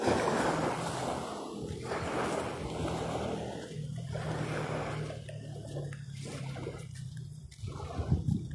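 Surf rolls and washes along a shore in the Negros Oriental province, a broad close roar that swells and breaks in repeated surges, with no talk over it.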